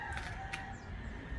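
A rooster crows faintly from some distance behind a building in a quiet rural spot, short and thin over low background rumble.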